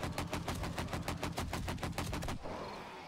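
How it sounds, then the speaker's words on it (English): A sustained automatic weapon burst in the survival game 7 Days to Die, fired into a group of zombies: about twenty evenly spaced, loud, close shots in quick rhythm, stopping abruptly before a brief quiet tail. "fire into this terrible group of zombies here"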